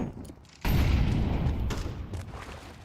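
Gunfire erupts in a competitive tactical shooter match at a bomb site, a sudden dense burst of shots and booms that rolls on for a couple of seconds after a quiet moment.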